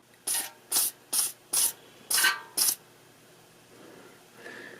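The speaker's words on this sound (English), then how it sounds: "spray them down with some penetrant oil to get them easier to free up" Six short, sharp hisses from an aerosol can of penetrant oil sprayed on exhaust manifold fasteners of a 1.6L Mazda MX-5 Miata, each about a third of a second, followed by a faint longer hiss.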